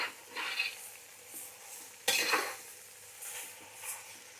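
Pieces of raw jackfruit dropped into a hot garlic tempering in a pan, a sudden loud sizzling burst followed by softer frying hiss and scraping stirs nearby.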